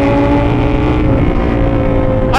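A supercharged Kawasaki ZH2 naked motorcycle passes nearby with a loud, steady engine roar that stays strong throughout, with no pause or break in the noise.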